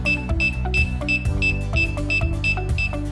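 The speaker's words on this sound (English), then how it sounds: "the remote controller will start beeping" A DJI Mavic Pro Platinum remote controller beeps while linking. Rapid repeated electronic beeps sound in a steady rhythm over low tones.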